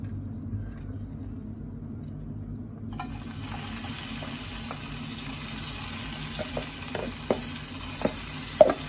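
Green gram dropped into a little hot ghee, first a low hum, then a steady broadband sizzle that stays loud and even, with scattered clicks of stirring toward the end.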